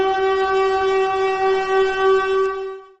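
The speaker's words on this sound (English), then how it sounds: "God, I love that siren." A steady, loud siren sound effect holds one sustained tone with strong harmonics for about three seconds, then cuts off abruptly.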